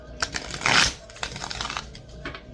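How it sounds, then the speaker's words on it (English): Tarot or oracle cards being shuffled in the hands, a brief flurry of papery riffling followed by lighter scattered slaps and taps, close and fairly quiet with no talking. "I need one more shuffle"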